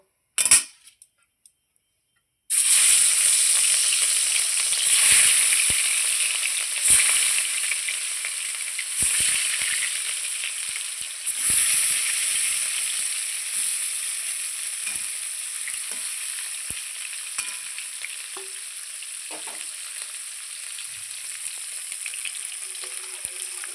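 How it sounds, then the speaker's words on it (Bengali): Katla fish dropped into hot mustard oil in a wok sets off a sudden bright, crackling sizzle that stays strong and gradually eases, with scattered sharp pops and spatters, no one speaking. "কড়াইয়ে সরষার তেল দিয়েছি দেখুন তেলটাও খুব সুন্দর গরম হয়ে গেছে এখন আমি মাছটা ছেড়ে দেবো"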